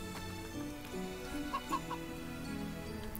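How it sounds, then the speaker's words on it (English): A chicken clucks softly a few times in The Witch of Fern Island, short quick notes near the middle, faint over a bed of game music. "Little chicken."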